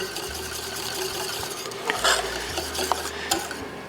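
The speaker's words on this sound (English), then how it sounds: "We're gonna put our Parm cheese right in there. Give it a quick stir." Spoon stirring Parmesan cheese into a thick, creamy sauce in a pan, a soft steady scraping and swishing with faint sizzle, close and alone without talk.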